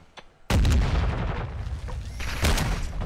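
Shotgun blasts in Call of Duty boom loudly and close, one heavy shot followed by a rumbling tail and a second blast a couple of seconds later.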